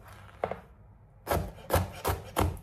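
A knife slices bitter gourd into thin pieces on a cutting board, giving one early cut and then four crisp, evenly spaced chopping strokes. The cuts are close and clear, with no talking.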